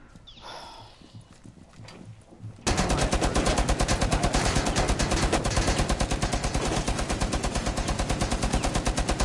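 Rapid, loud gunfire from a Magnum in a PS4 video game bursts in after a few quiet seconds and then keeps up a steady run of shots to the end.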